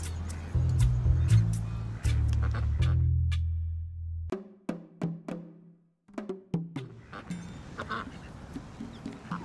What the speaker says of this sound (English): Where are the ducks?